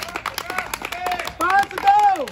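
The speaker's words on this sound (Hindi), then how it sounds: "शाबाश और तेज ताली बजाओ" Spectators at a 1600-metre running race clap in quick, sharp bursts under loud shouted encouragement from a nearby voice.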